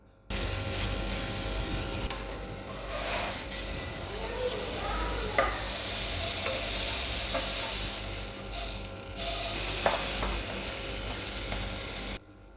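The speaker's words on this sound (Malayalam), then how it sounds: "മീഡിയം ഫ്ലെയിമിൽ വെച്ച് നമുക്ക് ടോസ്റ്റ് ചെയ്തെടുക്കാം." A buttered bread sandwich with chocolate and banana toasts in a hot pan over a medium flame. It gives a steady, fairly close sizzle with occasional light scraping and clicks throughout.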